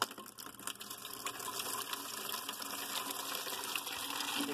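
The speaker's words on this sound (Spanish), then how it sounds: "lo ponemos la madera en un recipiente y vamos llenando de agua" Tap water runs into a container holding pieces of wood, a steady close rushing and splashing fill that continues without pause and with no talking.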